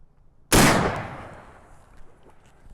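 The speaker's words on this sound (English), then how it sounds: "We're gonna try to shoot that armor plate down there." A single loud shot of a 50-110 WCF round from an 1886 lever-action rifle, fired outdoors at an armor plate, with a sharp crack followed by a long rolling echo that fades over two seconds.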